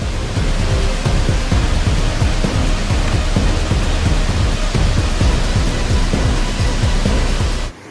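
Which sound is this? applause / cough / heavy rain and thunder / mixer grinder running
heavy rain and thunder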